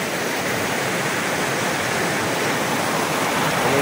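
A river flowing beside a rice field, a dense, steady rushing of water that stays loud and unbroken throughout, with no voices.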